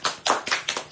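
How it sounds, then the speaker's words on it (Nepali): A few people clap together in a quick burst of five or six sharp, close claps at an even rhythm, with no talking over them. "ल ताली बजाइदिएको"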